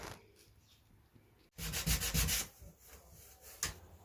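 Sandpaper rubs along a plywood desk edge in a loud, close burst of rough scraping strokes, after quieter handling sounds, then a final short scrape.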